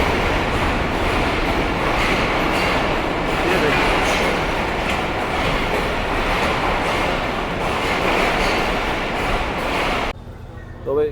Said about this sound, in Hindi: ये RG20 जो है बहुत शोर मचाता हुआ आ रहा है किसी ट्रेन का रेक लेते हुए